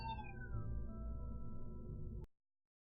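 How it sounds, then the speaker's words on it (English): A house cat meows loudly and continuously, a drawn-out wailing call with falling pitch that holds for about two seconds before cutting off, close to the mic. "the damn cat's making more noise than the dog"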